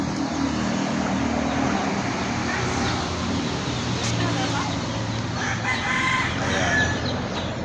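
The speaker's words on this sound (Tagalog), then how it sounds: "Super ilap ang aming mga chicken" Pet chickens being fed in the morning cluck busily close by, with a rooster crowing over a steady murmur of activity.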